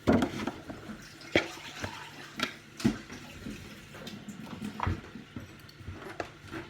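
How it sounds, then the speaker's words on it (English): A pot rinsed under a running kitchen tap: soft water flow with several sharp knocks and clunks of the pot against the sink, close and fairly quiet. "I'm just going to rinse this quickly"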